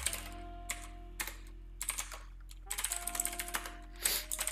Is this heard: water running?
no